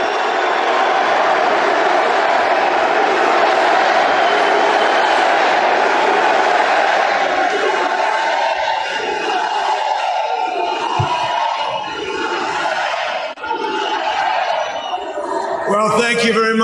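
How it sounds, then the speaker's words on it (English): Large crowd at a rally in Erie roars continuously with loud, sustained cheering that fades into murmur and a voice speaking toward the end. "You can see and hear the crowd."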